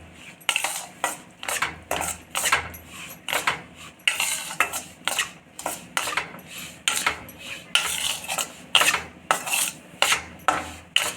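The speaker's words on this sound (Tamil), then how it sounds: "இந்த மாவை நல்லா வறுத்துக்கலாம்." A utensil scrapes and clinks against a pan again and again in a quick, regular rhythm as flour is stirred and roasted in ghee for a sweet. The sound is close and there is no talk.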